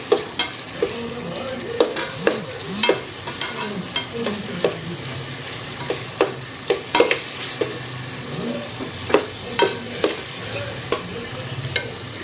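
An egg fries in a pan over a low gas flame while a spatula stirs it. A steady sizzle runs throughout, broken by frequent sharp scrapes and taps of the utensil on the pan, heard close up with no speech.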